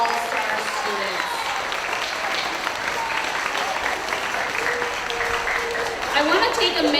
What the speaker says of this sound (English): let's give one more big round of applause for our 2025 PBIS All-Star students.